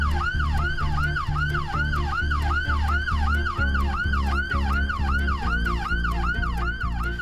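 An ambulance siren wails loudly and steadily in a rapid, repeating up-and-down cycle, with a heavy low engine rumble running underneath for the whole stretch.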